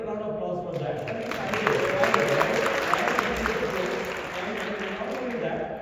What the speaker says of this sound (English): Come on, get a round of applause for that